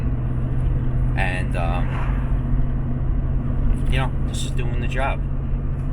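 Dodge 1500 pickup truck towing a new dump trailer, its steady low engine and road rumble droning continuously while someone talks over it throughout.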